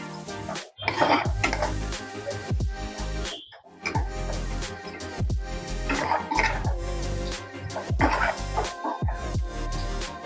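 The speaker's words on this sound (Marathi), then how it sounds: "ते पण छान आपण परतवून घेत आहोत" A spoon scrapes and knocks against a pan while cream is stirred and sautéed into methi matar, giving repeated close clinks and scraping strokes with short pauses between bursts.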